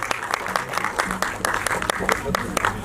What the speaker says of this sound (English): Can we have a huge round of applause for the entire star cast, please?